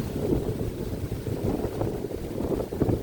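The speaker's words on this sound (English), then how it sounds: "Very windy." Steady low rumbling wind buffeting the microphone at Chinnor Hill Nature Reserve in the Chilterns, constant and fairly loud throughout, with no voices.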